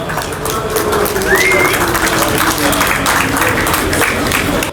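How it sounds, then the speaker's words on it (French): Sustained crowd applause rises at a French car show, a dense steady wash of clapping from a large outdoor audience, with a brief whistle or cheer cutting through partway. "Est-ce qu'on peut applaudir quand même la passion automobile?"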